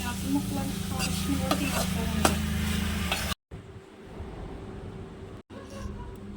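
Snails fry in chili powder masala thickened with gram flour, a close crackling sizzle with spatula stirring and scraping, briefly cut off before resuming at a softer level.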